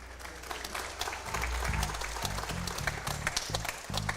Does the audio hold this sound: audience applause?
yes